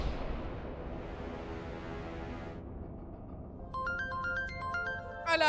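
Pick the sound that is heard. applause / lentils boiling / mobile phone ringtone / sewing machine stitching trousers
mobile phone ringtone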